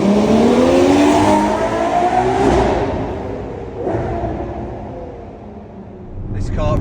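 A Ferrari 12Cilindri's 6.5-litre V12, which revs to 9,500 rpm, climbs in pitch through sharp gear shifts, loud and close at first, then easing off before building again near the end.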